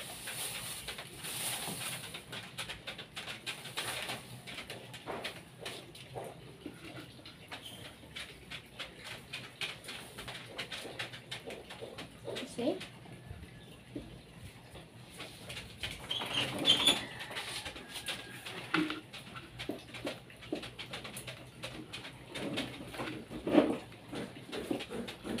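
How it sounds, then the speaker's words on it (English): A bird coos softly and repeatedly against a busy background of rustling and clattering, with no one talking. "This bird is really happy."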